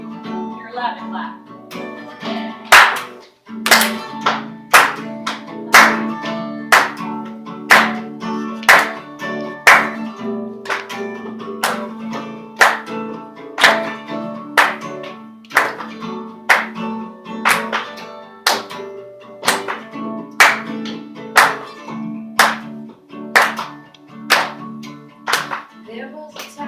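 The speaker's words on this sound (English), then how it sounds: "You're allowed to clap." An audience at a presentation claps along in steady time, one sharp clap about every second, through a performance of a song. The singing and music run beneath the claps for the whole stretch.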